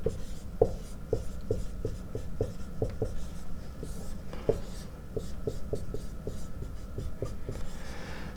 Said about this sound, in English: And I'll write that.